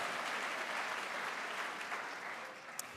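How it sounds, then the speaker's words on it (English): Steady round of applause from a commencement crowd honoring the students of the year at a university graduation ceremony in Charleston, a continuous dense patter of clapping hands with no voices over it. "let's give another round of applause for all of our students of the year"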